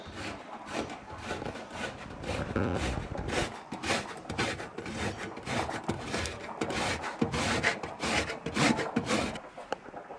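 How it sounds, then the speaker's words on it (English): Pecorino Romano cheese rubbed against the smallest holes of a hand grater, giving steady close rasping scrapes in quick repeated strokes throughout, with no talking. "Now I'm going to grate Pecorino Romano cheese."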